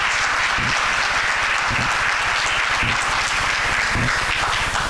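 A luncheon crowd at a scholarship event applauds a departing speaker, a loud, continuous wave of clapping with a low rhythmic thumping pulse underneath, holding steady throughout.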